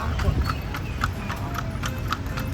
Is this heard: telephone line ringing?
no